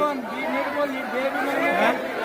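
A dense crowd murmurs and chatters inside the packed Swami Samarth temple at Akkalkot, many overlapping voices close by and steady throughout.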